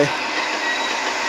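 Loud, steady rushing rumble of a train running in the video game Train Timulator: Railroad Game, with a faint metallic squeal riding on top.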